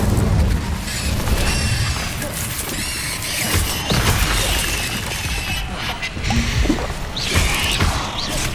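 An Incendio fire spell is cast in the Hogwarts Legacy video game, giving a sustained whooshing, roaring blast of flame mixed with crackling and mechanical clatter. The sound stays loud throughout, layered with game sound effects.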